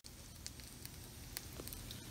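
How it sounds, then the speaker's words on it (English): Spicy peach habanero chicken wings fresh out of the oven give off a steady, faint crackling sizzle with scattered tiny pops, continuous and close, with no talking. "Sizzling, they're just coming out of the oven."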